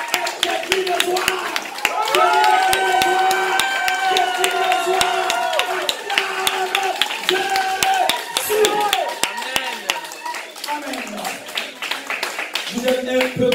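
A church congregation claps and cheers for Jesus during a Sunday worship service, a loud, steady crowd of clapping and shouts running throughout over music and voices.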